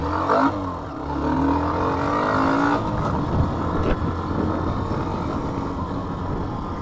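A Hero Xtreme 125R motorcycle engine starts up and revs, rising and falling near the microphone, then settles into a steady idle rumble.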